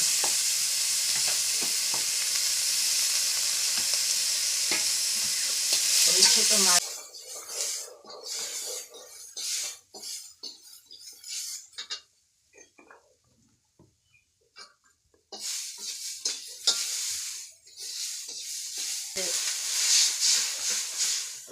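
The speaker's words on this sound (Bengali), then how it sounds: "মলা মাছ এই যে আমার মা রান্না করতেছে সকালবেলা পেঁয়াজ দিল কাঁচামরিচ দিছে তেল দিছে" Mola fish fries in hot oil with onion and green chili, loud and hissing for the first several seconds, then drops to a quieter stretch with scattered clinks and intermittent voices before the sizzle returns.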